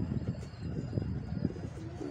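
Pigeons kept on a rooftop coo softly among low rumbling pulses and background noise, with a brief higher call near the end.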